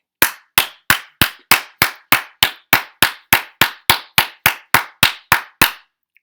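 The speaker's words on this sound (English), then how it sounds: "I had to clap it up." Hands clap in a steady, even rhythm, about seventeen sharp claps close by, then stop.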